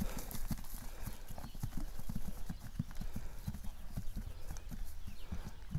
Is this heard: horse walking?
yes